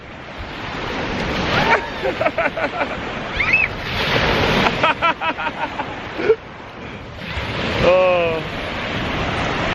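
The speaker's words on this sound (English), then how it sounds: "You're gonna get this boat sending some big waves down here now." Big waves from a passing boat wash ashore and surge with wind noise, while children's voices and excited shouts break in over the water with short bursts and squeals.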